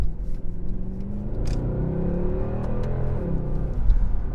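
A stable, good-handling car accelerates hard, its engine rising in a steady throaty rumble with clear rising harmonics, close and loud, with small clicks and no talk over it.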